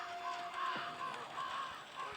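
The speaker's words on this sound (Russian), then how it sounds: "Даже вороны каркают" Crows caw outdoors, a few short hoarse calls repeating at moderate distance over faint background noise.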